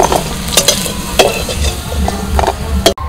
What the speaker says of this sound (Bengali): কড়াই তেল দিয়েছি, এবার আলুটা ভেজে নেব।